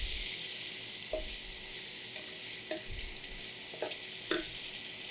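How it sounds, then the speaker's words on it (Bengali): Steady, close sizzling of a vegetable curry simmering in a pan just after a little water goes in, with a few soft clinks of a spoon scattered through it and no voices. "আর একটু পানি দিলাম"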